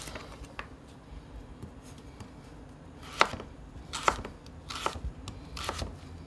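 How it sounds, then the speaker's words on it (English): Sharp knife slicing carrots thinly on a cutting board for a salmon dinner, a run of quiet, crisp cuts with a few louder chops standing out near the end, close up, no talk. "our carrot is going in first, so what I'm gonna make sure is that we cut these real thinly"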